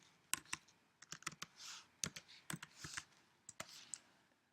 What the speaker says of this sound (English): you're going to type in Doctopus